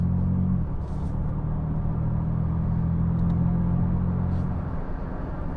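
A Honda Super N kei car driving through corners, heard from inside as a steady low engine and road rumble with a constant hum, fairly loud and unbroken, with no talking.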